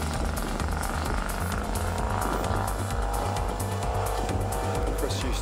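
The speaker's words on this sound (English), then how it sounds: "it's a 928 Porsche, manual, which we can't find second gear on at the moment" Porsche 928 with a manual gearbox and a troublesome second gear driving at a Targa New Zealand tarmac rally event, a loud continuous engine roar with pulsing changes in pitch, with talk underneath.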